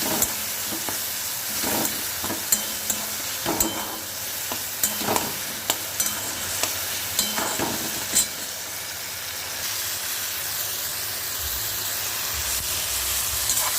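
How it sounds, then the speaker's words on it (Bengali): Eggplant bharta with tomato, onion and green chilli pressed and fried in a pan: continuous sizzling with repeated scraping and mashing knocks at an irregular pace, close and moderately quiet, without voices. "এটাকে আমি ভালো করে চাপিয়ে নেব"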